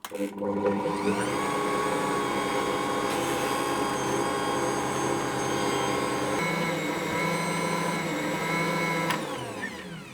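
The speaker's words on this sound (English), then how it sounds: "So I'll knead this for 15 to 20 minutes" An Ankarsrum stand mixer kneads focaccia dough with a steady, loud motor hum and a whining mechanical drone that holds evenly for about ten seconds before winding down at the end.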